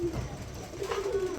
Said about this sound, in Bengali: খুবই সুন্দর এক জোড়া গুল্লা কবুতর দেখাইতেছি, ডাকের গুল্লা